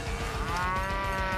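A cow moos once, close and loud, in a sustained low bellow with a wavering pitch. The call fills the entire short moment on its own.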